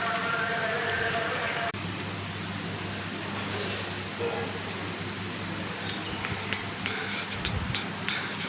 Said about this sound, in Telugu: ఎండ వాన రెండు అయితే కలిపి వస్తున్నాయి